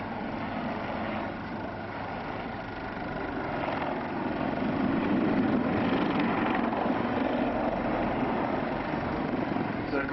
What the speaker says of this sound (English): only the Blue Eagles Lynx backflips